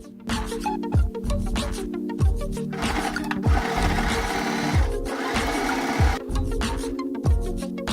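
Sewing machine stitching bust darts and stay stitching along a neckline of garment pieces, a steady loud motor whir running in repeated bursts with brief pauses between seams, no voices.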